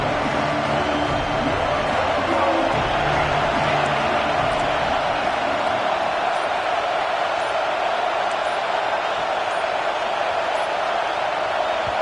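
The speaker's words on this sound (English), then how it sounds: "This crowd ready to make its presence known." A loud, dense stadium crowd roars continuously in a college football video game, a broad wash of cheering and noise filling the whole stretch with steady intensity.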